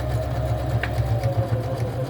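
A sewing machine stitches at a moderate, steady pace with its needle set in the down position, a close rhythmic mechanical hum with light clicks, and no talking.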